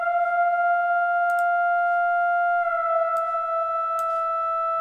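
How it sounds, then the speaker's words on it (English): Soft lead synth from the Expand 2 Lonesome Oscillator patch sustains a smooth, steady tone that steps down slightly midway, playing alone at even loudness. "that part I use Expand 2 Lonesome Oscillator, found in the soft lead section"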